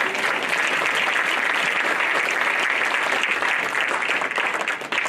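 A church congregation applauds with steady, dense clapping that fills the room at an even level throughout, with no break or swell.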